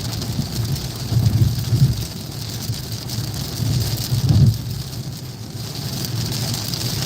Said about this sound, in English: here comes the hard rain again